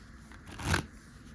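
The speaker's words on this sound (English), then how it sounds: "that is actually the casino shuffle" Playing cards riffle once in a quick casino-style shuffle, a close, crisp burst lasting under half a second against a quiet room.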